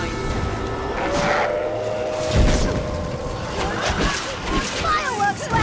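Explosion in the action game Dragon's Dogma: Dark Arisen: one low thud about midway through continuous battle noise, with game-character voices speaking over the scene.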